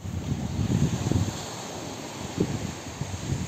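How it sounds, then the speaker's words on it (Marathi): Sea waves surge at high tide on Madban beach in Konkan, a broad, continuous roar of surf with swelling rushes and wind noise buffeting the microphone. "समुद्र आता भरती असल्यामुळे लाटांचा जोरजोरात आवाज येत आहे."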